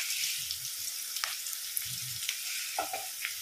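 Cashews and spices fry in a pan for a catering-style mutton gravy, heard close and faint. A soft, steady sizzle carries a few light clicks across three seconds.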